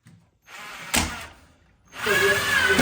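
A power drill drives screws into a shelf assembly in short bursts, one brief whir followed by a pause and then a longer, louder run.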